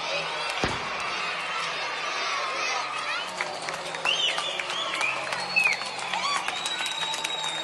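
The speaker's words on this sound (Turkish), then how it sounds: "Alkış ve tezahüratlar hiç kesilmedi." A crowd of school students applauds and cheers a retiring 65-year-old teacher, the clapping a continuous mid-level wash with scattered whistles and shouts, a sharp knock early on, and voices mixed in.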